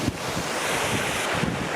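Strong wind buffets the microphone outdoors in a valley on a wild-camping hike, a steady loud broadband rush with gusty swells and no voices.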